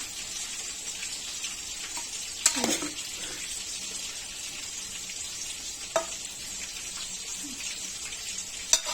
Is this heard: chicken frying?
yes